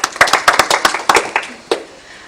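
A small group of people claps in a short burst of about a dozen sharp, separate hand claps that thin out and fade toward the end, with no talk over them.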